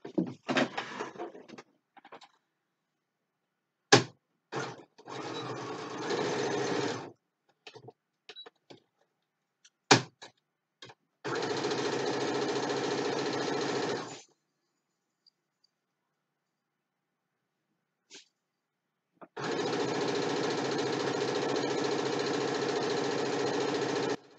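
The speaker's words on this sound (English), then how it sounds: "I'm going to go quickly sew this." A sewing machine stitches flannel fabric in three bursts of steady motor whir, each a few seconds long, separated by silence and a few short clicks and handling knocks.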